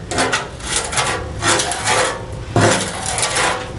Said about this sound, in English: That's why you hear me scraping on the wheelbarrow.